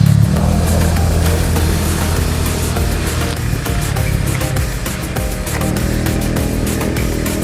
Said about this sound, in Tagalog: sa mga nagdadaan ng mga sasakyan